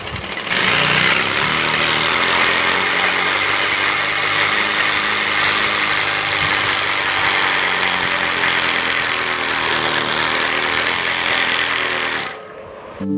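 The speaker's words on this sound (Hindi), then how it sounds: "तो अब फटाफट इसी एग्जॉस्ट की साउंड सुन लेते हैं" A homemade exhaust hack fitted to a bicycle gives a continuous buzzing, engine-like rattle that stays loud and steady for most of the stretch before cutting off near the end.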